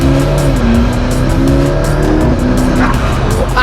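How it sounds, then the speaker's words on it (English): A McLaren P1's turbocharged engine drones on a public road, loud and close, with a fluctuating tone, rhythmic turbo whooshes and a brief squeal near the end, with no voices. "One of the first things that blew me away was the sound of this beefy turbo."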